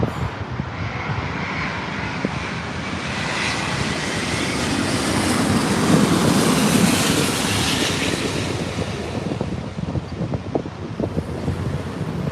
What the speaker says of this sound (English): That's an Airbus 350-900 arriving from Taipei.